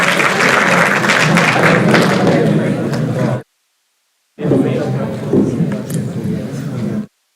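An audience at the inauguration of a School of Business Centre for Ethics applauds loudly in two bursts, separated by a full second of silence.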